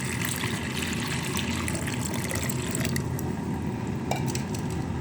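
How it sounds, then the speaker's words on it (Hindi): Water from two glasses pours into a wok holding plums on a lit stove, a steady liquid rush and trickle running continuously over a broad noisy background, with no talking. "2 गिलास हमने पानी के डाल दिए।"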